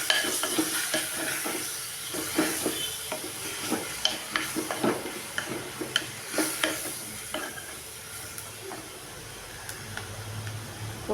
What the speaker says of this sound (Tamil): கிளறி விட்டுருவோம்.